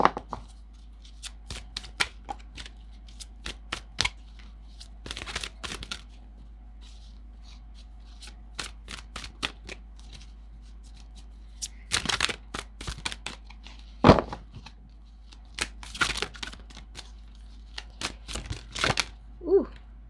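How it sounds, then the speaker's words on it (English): Tarot cards shuffled and pulled by hand in irregular bursts of crisp riffling and flicking, close and moderately loud, separated by quiet pauses, with a few brief sounds between. "So let's pull some more cards here."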